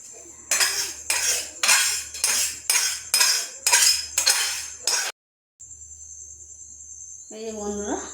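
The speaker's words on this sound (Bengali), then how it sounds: "তারপর কড়াইটা ধুয়ে আমি বসাবো একবার।" A kadai is washed with utensils clinking: about nine rhythmic, close metallic scrapes and clanks follow one another for five seconds. A short silence follows, then a steady insect-like hum, with a voice near the end.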